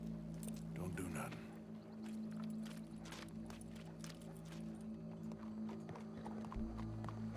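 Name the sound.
horse clip-clop hooves and whinny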